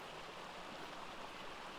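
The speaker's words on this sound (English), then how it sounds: "very loudly hear the waterfall." Waterfall in the video game ARK heard from indoors, a constant broadband rushing roar with no breaks, steady and fairly quiet.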